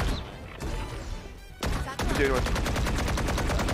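Rapid automatic gunfire in Valorant, a fast, steady stream of loud shots after a few earlier bursts and game sounds, with a voice speaking briefly over the action.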